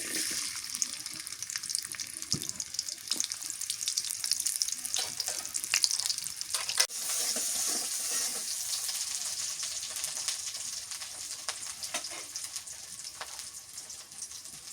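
Vegetables with Malabar spinach and papaya sizzle steadily in a pan, a continuous close frying hiss with scattered crackles and occasional sharper pops, no voices.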